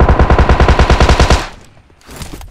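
Rapid automatic gunfire from the battle royale game PUBG on the Sanhok map, a loud, evenly spaced burst of about a dozen shots lasting over a second, then a quiet pause and a fainter noisy tail.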